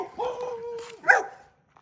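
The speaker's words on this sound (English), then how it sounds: "How you gonna bark once I get out of the truck?" A dog barks near a truck, a couple of short yapping barks with a whine-like tone, fairly close and moderately loud, with no talk over it.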